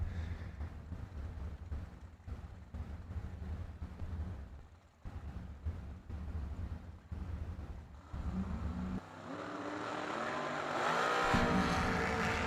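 Drag racing cars at the Mickey Thompson Million race roar past with loud, rumbling engines that pulse and stutter, then swell into a rising, revving whine as the run builds, heard at a distance with no voices.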